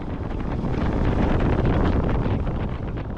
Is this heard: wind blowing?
yes